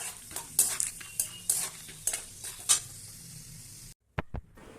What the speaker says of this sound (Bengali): তেল গরম হয়ে গেছে, এবার দিয়ে দেবো আমি বাদামগুলো।